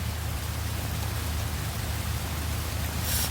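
Dense, constant roar of heavy rain falling on surfaces nearby, loud and unbroken for the whole stretch.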